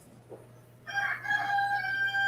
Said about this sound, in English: We know Dr. Coach Romel is him because we hear the Roosters.